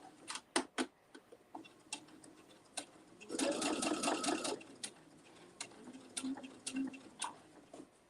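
A domestic sewing machine stitches fabric for a tote bag in a quick, busy burst of rapid clatter lasting about a second and a half. Scattered sharp ticks and light handling noises come before and after it.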